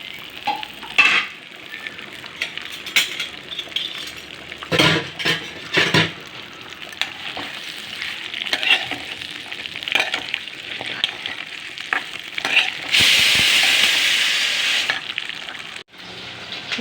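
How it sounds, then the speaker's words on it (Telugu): Okra fries in hot oil in a pan, giving a loud, steady sizzle broken by stirring scrapes and clinks of a utensil against the cookware, with a brighter, hissing burst of frying near the end. "ఆయిల్ వేసుకొని ఈ బెండకాయలు కొంచెం వేయించుకోవాలి"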